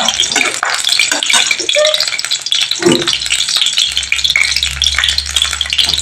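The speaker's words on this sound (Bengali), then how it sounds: "এবার তেলের মধ্যে আমি একটা গোটা শুকনো লঙ্কা," A whole dried red chili drops into hot oil for a tangy raw-tomato chutney, giving a loud, busy sizzle and crackle with stirring scrapes throughout, close and continuous, with a low rumble building in the later seconds.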